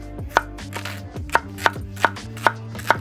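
A kitchen knife chops carrots for curry on a cutting board, six sharp, evenly spaced knocks at a moderate pace, up close over a quiet background hum.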